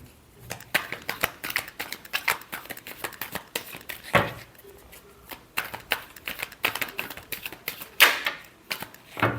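Tarot cards are shuffled by hand, producing quick, close, rapid riffling and flapping bursts in irregular clusters, with short pauses between them and no speech.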